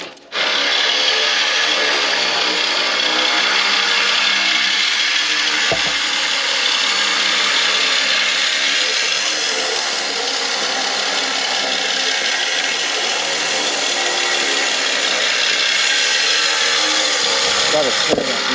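A Husqvarna chainsaw runs during selective logging with a crawler and log arch, its high engine drone loud, close and steady throughout with slight shifts in pitch.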